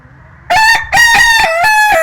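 A rooster crows loudly and close by, a long strained cock-a-doodle-doo that starts after a brief quiet moment.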